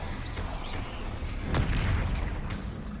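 In Hogwarts Legacy, a Confringo blasting curse bursts with a muffled booming explosion midway, rising over a rumbling game background and fading after about a second.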